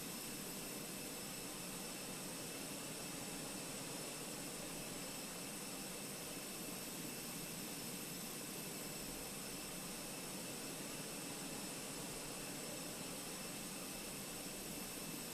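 A jet aircraft landing in a flight simulator game, heard as a constant broadband engine roar with a steady high whine that holds unchanged for the whole stretch, no voices on top.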